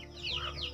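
A silkie and Rhode Island Red cross chicken gives a brief, soft cluck or two, faint against quiet farm background.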